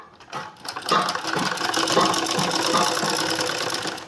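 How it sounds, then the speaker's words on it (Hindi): A sewing machine runs steadily, stitching a straight seam on a kurti top with a fast, even mechanical chatter that starts after a brief lead-in and continues without speech. "2 इंच तक आपने बिल्कुल स्ट्रेट सिलाई लगानी है"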